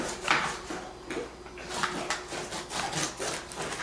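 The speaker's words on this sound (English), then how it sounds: "So you just go back and forth and smooth it all down." A spatula scrapes back and forth across Rice Krispie treats pressed into a pan, giving a steady run of soft, close rubbing and scraping strokes with no talking.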